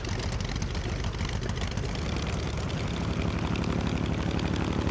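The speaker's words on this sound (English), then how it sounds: "let's run up the engine just a little bit more, because who could ever get tired of that sound?" Grumman F6F-5 Hellcat radial piston engine running up in Microsoft Flight Simulator, a loud, steady, rumbling roar with a dense throbbing texture that holds continuously without pause.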